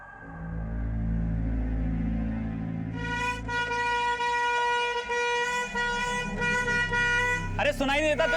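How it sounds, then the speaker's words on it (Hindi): A car horn blares in long, repeated honks over rumbling traffic, with voices mixed into the street noise, in a street scene from the Indian TV crime series Crime Patrol. "हॉर्न मारो"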